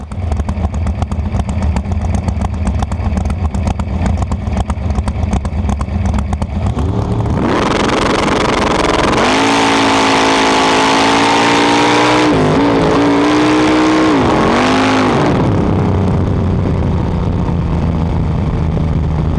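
Race car on a time trial pass, a loud sustained engine roar close by that rises and falls through gear shifts and revs, no talking.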